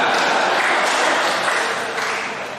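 A church congregation applauds during a Christian sermon, a dense, steady wash of clapping that fades slightly toward the end.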